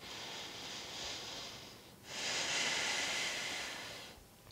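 Two long, soft breaths of air expelled during a yoga breathing exercise, the second fuller and louder, heard alone with no talk.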